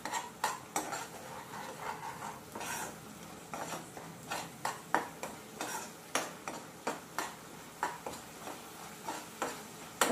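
Ginger-garlic paste and turmeric stirred in a pan for chicken curry, a quick run of regular clinking spoon scrapes against metal over a soft sizzle, close and fairly quiet, no voices.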